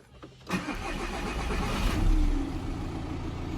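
A 2005 Volkswagen Golf with a 2.0 diesel engine cranks briefly and fires up, then settles into a loud, steady idle close by with a slight swell in revs.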